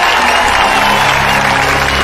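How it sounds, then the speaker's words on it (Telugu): Dense applause from a crowd during a scene in the Telugu film Bengal Tiger, loud and sustained, with a faint cheer mixed in. "చప్పట్లు చప్పట్లు"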